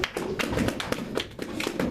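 A church congregation claps for Jesus in a lively, regular rhythm of sharp, close claps, steady and loud, with no voices standing out.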